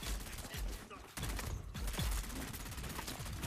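Rapid gunfire from enemies firing down from above in the video game Dune Awakening, a dense burst of shots with a brief lull, under faint talk.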